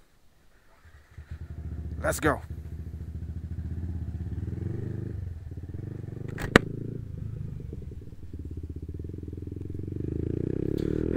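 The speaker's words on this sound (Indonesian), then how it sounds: "saya akan memakai sepeda motor sebagaimana biasanya" A motorcycle starts up and idles, its engine chugging steadily and then rising in pitch toward the end, with a couple of sharp clatters and a short spoken phrase over it.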